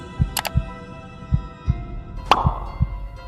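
A heartbeat pounds in steady lub-dub pairs, three double thumps in a row, low and close, over faint background tones and a brief swish.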